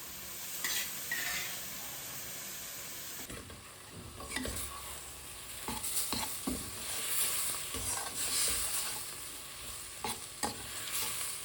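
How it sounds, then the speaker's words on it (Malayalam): Clams frying in a pan are stirred, producing a steady close sizzle with scraping and clattering stirring strokes throughout, and no voices. "ഇത് നന്നായിട്ട് ഇളക്കി മിക്സ് ചെയ്തിട്ട് മൂടി വെച്ചിട്ട് വേവിക്കാം."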